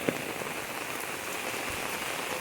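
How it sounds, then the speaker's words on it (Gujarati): Steady heavy rain pouring down onto surfaces, a dense constant hiss with occasional louder drops. "વરસાદ ભાઈ જોરમાં ચાલુ થઈ ગયો છે"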